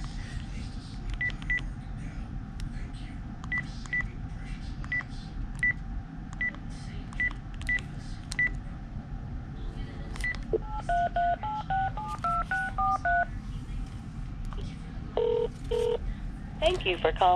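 Touch-tone dialing of a scam technical support number, a quick series of paired beeps punched out one after another, followed by a faster run of tones, close and clear over faint background noise.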